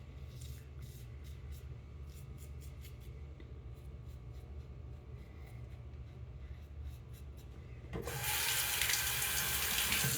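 Water runs from a tap into a sink during a live shaving session, a low steady rush that swells into a louder, brighter gush near the end, with no talking.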